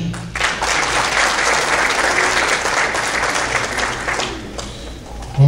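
Warm, sustained applause from the audience at an international mushaira poetry evening in Richardson, Texas, a thick even wash of many hands clapping that holds for several seconds and thins near the end.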